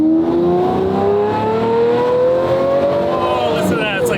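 Lamborghini with E-gear transmission and LP SV kit, its engine revving loud and close in rising pitch sweeps as it accelerates through gears, with a brief shift dip midway and voices in the cabin.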